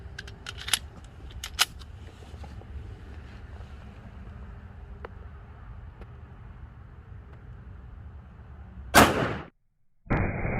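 A 9mm M&P Shield pistol fires a single Critical Duty round into ballistic gel: a lone, sharp, loud shot near the end, after quiet rustling and a few light clicks.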